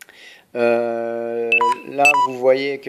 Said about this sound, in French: si vous avez entendu un petit bip, c'est normal, c'est mon téléphone qui est en manque de batterie